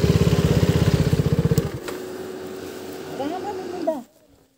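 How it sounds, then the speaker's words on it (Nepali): A vehicle's engine cooling fan whirs loudly with a rapid pulsing beat, then settles into a softer steady hum beneath a voice before abruptly cutting off. "इन्जिन होइन, कुलिङ हो, फ्यान हो के।"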